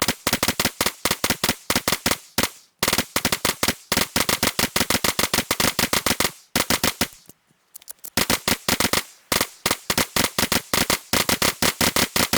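Long bursts of rapid automatic gunfire in the video game DayZ, shot at the bottom frame of a gate: loud, dense strings of sharp cracks with a few brief gaps, no speech.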